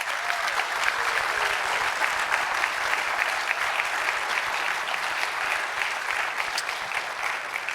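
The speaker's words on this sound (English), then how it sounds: "please give a round of applause to our 2024 Hoover Athletic Hall of Fame inductees" Sustained applause from a crowd honoring the 2024 Hoover Athletic Hall of Fame inductees at North Canton City Schools, even dense clapping holding steady throughout.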